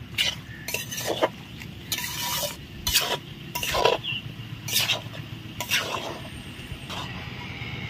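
Spatula stirring chicken kosha in a pot, Bengali-style chicken cooked with raw milk, giving a series of scraping clinks against the metal with faint sizzling underneath, steady and close.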